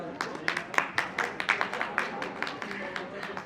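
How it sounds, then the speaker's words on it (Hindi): Audience applause greets two trainers arriving at a stage event, a steady run of hand claps from a small crowd with some voices mixed in. "मैं चाहूंगी उनके लिए जोरदार तालियों से उनका स्वागत करें।"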